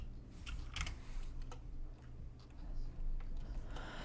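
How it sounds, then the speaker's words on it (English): Soft clicky keystrokes on a computer keyboard tap in quick, irregular bursts, fairly faint and close, with no talking. "I really like the clicky clack of my keyboard."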